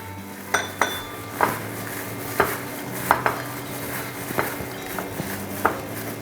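Peanut masala being stirred and mixed with Kashmiri chilli powder: repeated sharp clinks and scrapes of a spoon against a bowl or pan, spaced irregularly about every half second to a second, fairly close.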